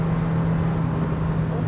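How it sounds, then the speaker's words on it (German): Suzuki Jimny 2016 Ranger engine at high revs above 5000 rpm in fifth gear around 160 km/h, a steady droning hum heard from inside the cabin, continuous and fairly loud with no pauses. "das Auto wird schon so ein bisschen laut. Also sobald er richtig Drehzahl kriegt, jenseits der 5000"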